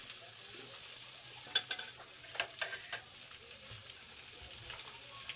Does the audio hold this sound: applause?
no